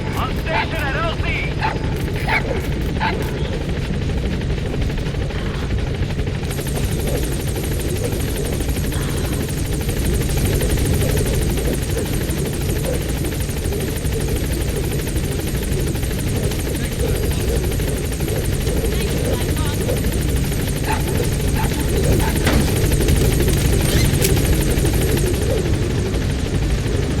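The Pequod support helicopter hovers at a landing zone in the Metal Gear Solid V video game, its rotor thrum loud and continuous for the whole stretch, with radio voices speaking over it.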